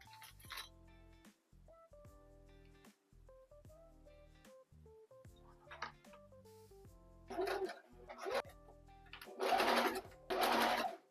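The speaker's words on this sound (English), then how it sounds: "So I think I'm just gonna sew a zigzag stitch across and connect it together." A sewing machine runs a zigzag stitch across dress fabric, with several short stop-start bursts of stitching followed by two longer, louder runs near the end, all close up with no talking.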